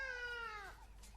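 A single drawn-out cat meow, descending in pitch, fairly faint against a quiet low hum.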